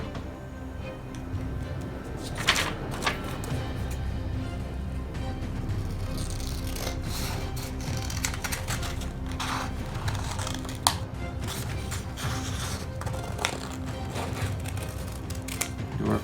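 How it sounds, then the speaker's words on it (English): Scissors snip through printed cardstock to cut out parts for an Estes Wizard model rocket, giving small irregular clicks and crisp cuts close by over a steady low background hum. "So then we just take our scissors"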